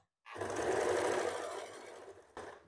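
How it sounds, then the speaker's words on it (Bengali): A sewing machine stitches fabric in one continuous whirring run of about two seconds, close and fairly quiet, followed by a brief short burst as it restarts. "এখান থেকে দেখো সেলাইটা শুরু করছি মুহুরির দিক"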